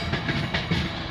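VIA Rail passenger train passing close by, a loud continuous rumble of wheels with rhythmic clacking as the cars roll past.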